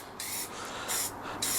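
Spray paint hisses onto a pot outdoors in cold weather, sounding in three short, close bursts separated by brief pauses.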